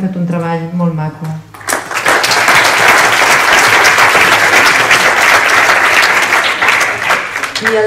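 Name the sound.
applause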